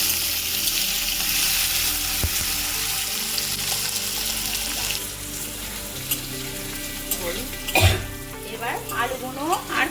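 Colocasia and potatoes frying together in oil in a pan, a steady loud sizzle throughout, with clatter and stirring strokes growing sharper toward the end, close by and without speech.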